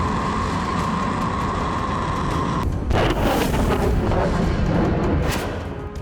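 An Iranian missile launches as a dense, roaring rumble that swells into a rushing blast, loud and close, with no talk.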